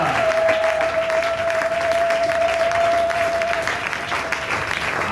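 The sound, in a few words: congregation applauding and cheering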